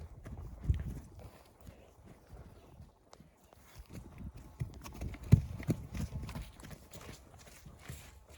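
Novoalexandrovsk draft horses walk, hooves clopping faintly, soft irregular thuds on the ground, a bit distant, with light outdoor background noise.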